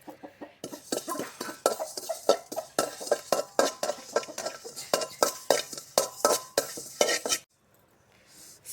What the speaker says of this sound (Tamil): அடுத்தது சோம்பையும் நல்லா வறுத்து எடுத்துக்கிறோம்.